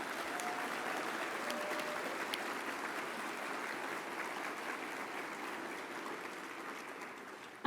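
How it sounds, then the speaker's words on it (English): A banquet audience applauds with sustained, even clapping from many hands, heard at moderate distance and quiet, lasting the full stretch without a break. "Let's give them a round of applause."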